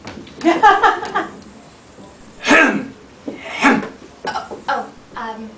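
Several harsh coughing bursts, loud and close, separated by short pauses, with some throaty vocal sounds between them.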